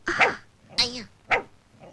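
Three loud, close bark-like yelps with whimpering tails, spaced about half a second apart, in a Kannada film scene. The sounds are probably a human voice imitating a sick dog.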